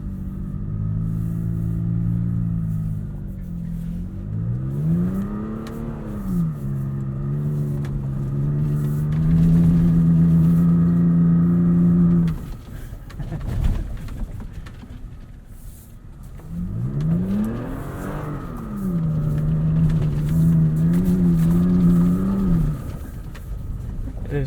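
A 2020 Toyota Tacoma TRD Offroad pushes through sand dunes, its engine revving up and down in long rising and falling sweeps. The engine stays loud and close, with a brief lull in the middle.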